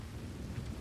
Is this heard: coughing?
no